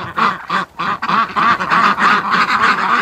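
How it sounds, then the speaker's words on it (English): Loud, close duck calls from a flock at a lake during a morning rush home, repeated nasal quacks and honks in quick succession as a Muscovy duck flies over. "Oh, we got a Muscovy flying."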